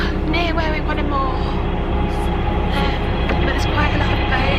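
A train passes near a canal where a 60 ft narrowboat is moored among other boats, giving a steady, loud rumble with rattling throughout and voices audible over it.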